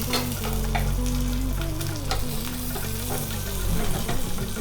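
Mustard seeds, green chillies and curry leaves sizzling loudly in hot oil in a pan, a dense continuous crackle and hiss with scattered pops, close up and unbroken throughout, no voices.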